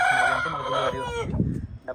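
A rooster crows once nearby, a loud drawn-out call that fades, followed by softer clucking and faint background noise.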